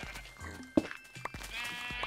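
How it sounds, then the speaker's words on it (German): Sheep bleat in the Minecraft video game, a few short in-game calls rising over a quiet background with soft clicks, no talking. "Andi, hast jetzt beide rote Schafe gelb gefärbt?"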